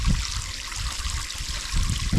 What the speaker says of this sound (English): So it pumps out some water.